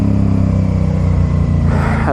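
Motorcycle engine revving steadily through gear changes with rev matching, a loud, close, continuous drone that climbs in pitch near the end.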